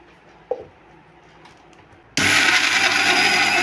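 Quiet room with a small clink, then a mixer grinder abruptly starts whirring loudly and steadily, grinding jackfruit batter with a little water close by until the end.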